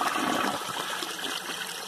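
A 2001 Vitromex Marathon toilet flushing a washcloth, a loud, steady rush of swirling water filling the whole two seconds with no talk.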